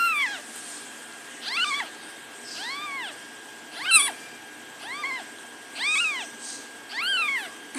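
High, thin newborn kitten mews repeat every second or so, several small voices overlapping at moderate volume, with no talking.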